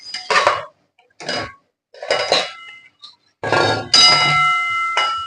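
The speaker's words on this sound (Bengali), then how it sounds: "এবার আমি ঢাকাটা খুলে নেব।" A cooking pot lid comes off amid several sharp metallic clinks and clanks, with short bursts and a ringing tone at the end.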